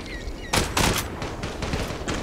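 Automatic gunfire from the online shooter game Zula, several loud rapid bursts of shots close by, separated by short gaps over a steady game background.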